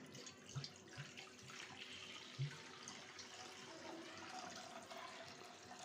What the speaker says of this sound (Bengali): প্রায় 1 লিটারের মতো পানি দিয়ে দিলাম